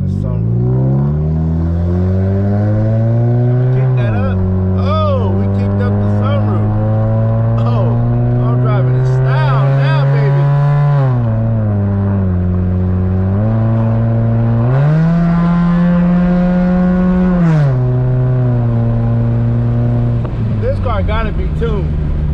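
A tuned racing Chevrolet Cavalier LS Sport engine revs hard and loud close by, pitch climbing and dropping through repeated throttle blips and shifts, with a rough exhaust drone throughout.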